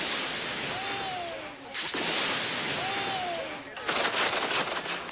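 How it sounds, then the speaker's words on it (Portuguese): Police gunfire dispersing a crowd in 1988 news footage comes as sharp cracks and bursts within dense, noisy crowd commotion, with a heavier flurry near the end. "Policiais dispersam a multidão a tiros."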